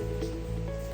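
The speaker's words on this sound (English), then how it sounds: "Excuse the sound outside, it's pouring rain." Heavy rain pours steadily outside, a constant hiss of downpour heard from indoors with a low hum beneath it and no talking.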